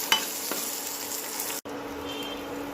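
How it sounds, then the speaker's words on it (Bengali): Tomato and grated ginger fry with browned onions in a pan, a dense steady sizzle with a brief stir and a sudden short cutoff midway, close and loud, no talk. "পেঁয়াজটা লাল লাল হয়ে গেলে দিয়ে দেবেন একটা টমেটো, দেবেন একটু আদা বাটা।"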